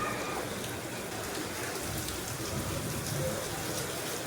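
Heavy rain pours down over open farmland in Gujarat, a steady, dense hiss of countless drops striking surfaces that stays even and unbroken throughout.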